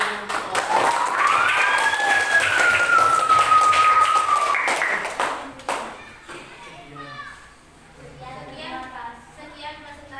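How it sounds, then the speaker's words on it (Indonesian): A class applauds a student group presentation, scattered clapping mixed with children's voices and a whistle-like sliding tone early on, then thinning into quieter chatter and a few light taps. "Kita beri tepuk tangan dulu untuk kelompok."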